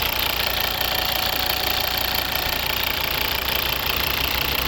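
A 2011 Volvo V70 2.0 D3 diesel engine idles steadily with a rough, knocking rumble, loud and close, running continuously without any talk.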